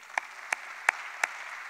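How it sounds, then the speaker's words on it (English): Four slow, evenly spaced hand claps, faint and distant with quiet gaps between them, at an indoor tennis center dedication ceremony. "can we give him a round of applause"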